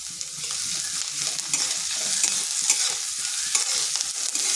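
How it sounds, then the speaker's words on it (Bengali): Grated ginger frying with onions in a hot pan gives a steady, close sizzle, with scraping stir strokes throughout and no voices. "আদাটাকেও একটু ভেজে নিচ্ছি যাতে তার কাঁচা গন্ধটা চলে যায়।"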